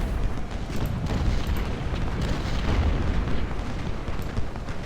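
Cannon and artillery fire on a Civil War battlefield in the Ultimate General Civil War strategy game, a loud continuous rumble of distant booms and bursts blending into a dense battle din.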